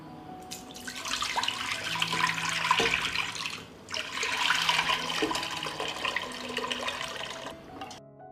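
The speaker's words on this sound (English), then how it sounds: "I will pour the water from the pan into the pan" Water pours from a pan into glass jars during fruit preserving, a steady running splash in two long pours separated by a short break, with light clinks at the end.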